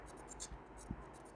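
Pen scratching on paper while an augmented matrix is written out by hand, short quiet strokes in a soft rhythmic pattern, faint and close in a quiet room.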